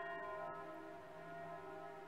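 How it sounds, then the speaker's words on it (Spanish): Church bells ring at noon from a Catholic church very close by, a steady sustained resonant ringing with a hum, heard alone and fairly faint at a distance. "Ahí van a oír las campanas de la iglesia."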